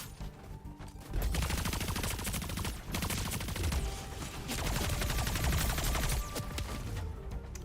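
Rapid gunfire in the video game Splitgate 2, dense and loud bursts of shooting that run almost continuously after a brief quieter start, with heavy low thumps mixed in.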